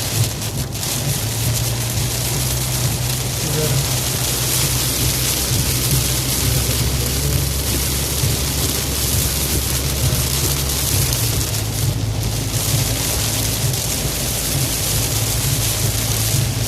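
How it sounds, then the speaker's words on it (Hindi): Heavy rain pours on a car driving at night in Sharjah, UAE, in a dense, steady roar with a low rumble underneath, continuous and loud throughout, with no voices. "बहुत ज़्यादा बारिश हुई है"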